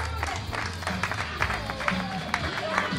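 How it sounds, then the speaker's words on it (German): Audience at an evening party in a Media Markt store clapping and cheering, a dense wash of applause with crowd noise and voices mixed in throughout. "Applaus bitte."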